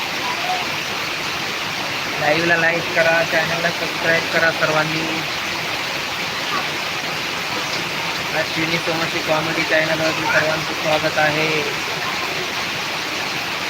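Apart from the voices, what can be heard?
heavy monsoon rain pouring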